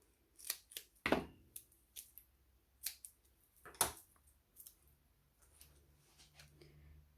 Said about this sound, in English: we'll just cut a bit of foam